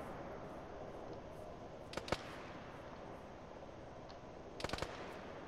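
Distant gunfire in the military game Arma 3: two short bursts of a few sharp shots each, heard over a steady background hiss, with a faint isolated pop between them.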